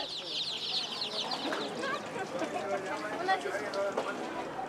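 Chickens kept for the pot cluck and squawk in Bolivia, their busy chatter running continuously at close range beneath a narrator's talk.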